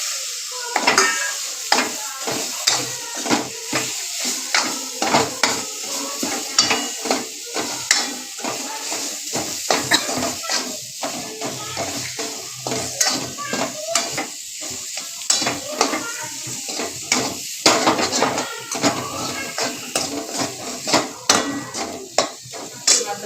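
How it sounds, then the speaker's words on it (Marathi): Boiled bitter gourd is stirred into a pan of spiced oil with red chili powder and turmeric, a spoon scraping and clanking against the pan in repeated sharp strokes over a steady sizzle, close and fairly loud. "आता उकडून घेतलेले कारले आपण यामध्ये मिक्स करणार आहोत"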